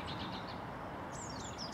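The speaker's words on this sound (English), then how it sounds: "Surrounded by birdsong, as I was last time." Birdsong at Knockholt, a rural railway station, with a few faint, high chirps and short warbling calls rising over a steady outdoor background hiss.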